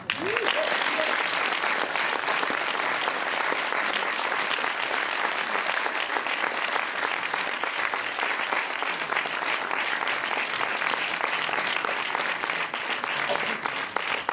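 An audience at a film premiere at the Champs Élysées Film Festival applauds two actresses, with dense, steady clapping filling the room at a constant loud level from start to finish, a few voices faintly mixed in.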